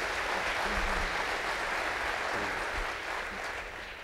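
A conference audience at a Lions Den session claps for the presenters, a moderately distant, even wash of applause that tapers slightly at the end.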